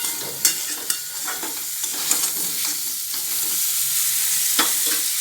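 Mango pieces fry in a pan with two chillies and turmeric for a mango chutney, a continuous close sizzle punctuated by sharp spatula clicks and scrapes as they are stirred.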